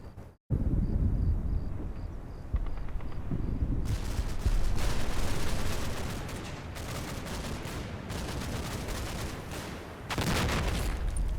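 Machine gun fire in the World War II strategy game Combat Mission: Battle for Normandy, a dense, sustained rattle of bursts with booming impacts layered over continuous battle noise, loud throughout after a brief opening gap.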